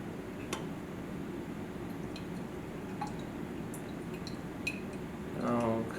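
Mixture stirred in a container during a chemistry equilibrium experiment: faint scattered clinks and light ticks over a steady background hiss, close by, with a brief wetter swirl at the end.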